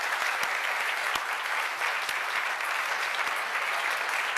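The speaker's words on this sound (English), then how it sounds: "So I would like a big round of applause for all our performers." An audience applauds performers at a farewell gathering in London, a steady, fairly quiet wash of many hands clapping, with a few sharper individual claps standing out, continuing evenly throughout.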